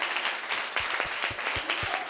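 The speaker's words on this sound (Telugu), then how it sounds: "అందరు బట్టి దేవునికి గట్టిగా చప్పట్లు కొట్టాలా," A church congregation applauds to God during a sermon, a dense and steady round of clapping with many hands and some sharp individual claps near the front, lasting the whole short stretch.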